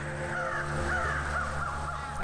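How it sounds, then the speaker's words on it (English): Crows caw in a video game forest scene in The Night of the Rabbit, a few harsh calls rising over a steady, dense ambient bed of wind and woodland noise, moderately distant and without speech. "I wonder if they're all crows."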